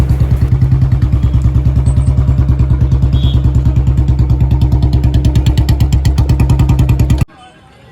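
A motorcycle engine idles close by beside a Gurudwara museum wall, a loud steady chugging throb that cuts off abruptly near the end.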